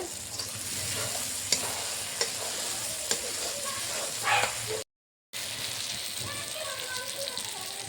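Spice masala sizzles in hot oil while being stirred and scraped for a cauliflower roast, a steady close frying hiss broken by occasional sharp scraping clicks, with a brief total dropout near the middle.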